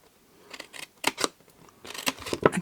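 Scissors snip through paper while a gift pouch is made, giving a series of close, crisp cuts that come in irregular clusters.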